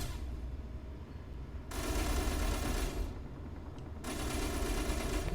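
Automatic enemy gunfire in the Space Engineers game comes in two long, dense bursts of rapid shots, loud and sustained with a brief lull between them.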